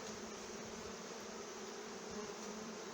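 Honey bees swarm around a hive as two colonies are combined, their dense, steady buzz filling the air continuously and close by, with no voices.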